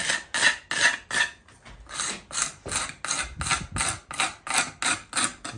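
A tool is scraped back and forth along lime mortar joints in brickwork, making a regular rasping rhythm of about a dozen close, loud strokes with no talking.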